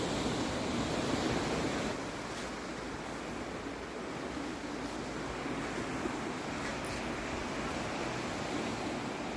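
Steady broadband wash of Costa Brava sea surf rolling in, continuous and fairly soft, with a slight drop in intensity after the first couple of seconds; no voices.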